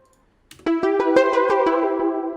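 Dry, unprocessed Omnisphere synth pluck playing a short melodic phrase of about eight rhythmic notes after a brief near-silent lead-in. The notes are bright and harmonic-rich, close and steady in level, with no one talking.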